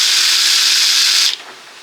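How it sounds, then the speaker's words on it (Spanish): A power drill spinning a countersink bit into wood, a steady high-pitched whirring grind that runs loud for over a second, then cuts off abruptly and leaves only a faint residual hum. "he comprado esta pieza para el taladro para que podemos hacer"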